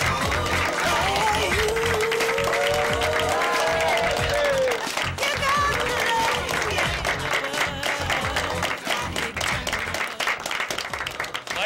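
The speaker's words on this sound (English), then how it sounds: "Come on and clap your hands for the man." Loud, continuous applause from a late-night talk show studio audience welcoming the host, steady clapping blended with music and a voice on top.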